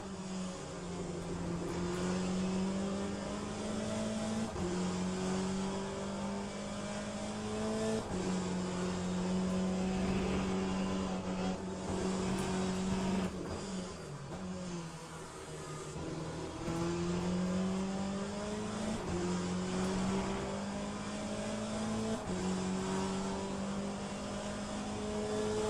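Race car engines in the Le Mans Ultimate video game drone steadily and loudly, rising in pitch through each gear before dropping at the shifts, in a repeating pattern of acceleration over the whole lap section.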